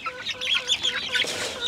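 Chickens cluck and squawk at feeding time on a small farm, a busy overlapping flock close by with bright, chattering calls and no voices.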